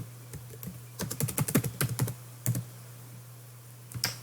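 Someone types on a computer keyboard in bursts of quick, close clicks, a short run of keystrokes, a pause, a couple more taps and a final key press in a quiet room.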